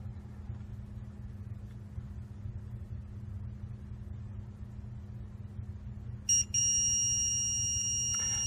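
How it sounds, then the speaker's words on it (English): Load moment indicator console on a Carrydeck crane sounds a steady high-pitched electronic alarm tone that starts abruptly partway through and continues, loud and alone over a low machine hum. "We had a maximum tip height of 30, and it had gone into an alarm condition."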